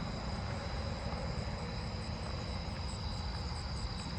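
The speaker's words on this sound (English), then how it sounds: "Southern ground cricket there." A southern ground cricket trills on a night out in a neighbourhood, a thin, high, steady buzz set in a constant insect chorus with a low rumble of distant traffic beneath.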